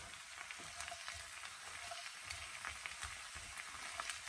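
Food sizzles in a pan during home cooking, a faint, steady crackling and spitting that continues without interruption.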